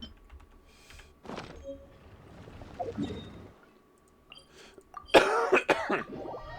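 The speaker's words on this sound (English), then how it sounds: "I'm dying and coughing a lot." A person coughing during a long Genshin Impact stream on PC, a few rough bursts spread out with quiet gaps, the last cluster harsher and louder than the ones before.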